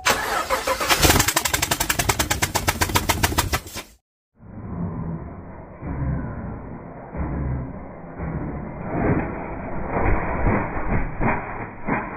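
A car engine is cranked by the starter in a fast, rhythmic chug for about four seconds to blow debris out, falls briefly silent, then fires and settles into a steady, loud idle with no talk.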